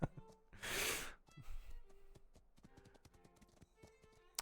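A horse in the video game Atlas snorts and breathes heavily in one loud burst, followed by soft hoof clops and light taps that continue at a low level.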